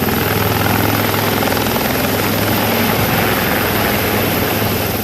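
A rescue team's helicopter carrying search crews over forested hills thunders continuously and close, its rotor chop and engine whine loud and unbroken throughout.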